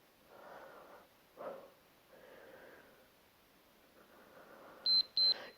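Two short, sharp electronic beeps from a workout interval timer sound close together near the end, after a stretch of heavy, quiet breathing during a home strength-training session.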